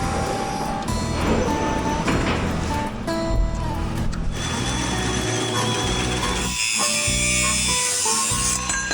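A loud saw cuts a metal piece for a small off-road wrecker, a harsh continuous grinding rasp that changes tone partway through, close and steady with no talk.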